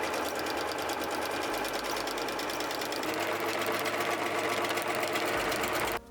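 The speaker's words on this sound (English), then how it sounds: "I sewed the hook sections to the top of each curtain" A sewing machine runs steadily and loudly, stitching hook sections onto the tops of curtains with a rapid mechanical chatter and motor hum. It shifts pitch slightly midway, then stops abruptly near the end.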